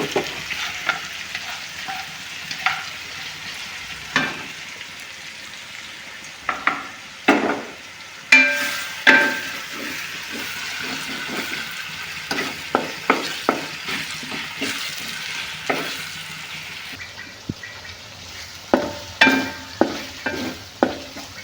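Tomatoes sautéing in a pan for crab biryani, with a steady low sizzle broken by repeated close spatula scrapes and stirring knocks in irregular bursts, no one speaking.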